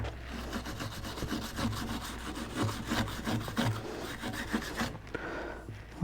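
A brush scrubbing muddy grime off a part in a garage workshop, a steady close rasping back-and-forth scrub that runs continuously with rhythmic strokes and no talk.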